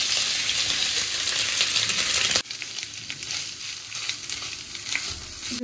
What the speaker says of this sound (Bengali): তেলটা গরম হয়ে গেছে, দেখো মাংসটা আমি এখানে দিয়ে দিলাম।